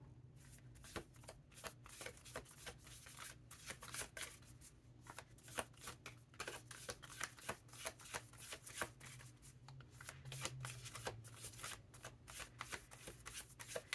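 Oracle cards shuffled by hand in a steady run of crisp, rapid riffling flutters, close and continuous with no talk.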